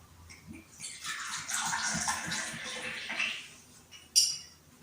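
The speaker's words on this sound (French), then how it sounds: "Je verse dans un second verre l'eau de la fontaine." Fountain water pours steadily into a glass for a few seconds, then a light clink of glass follows.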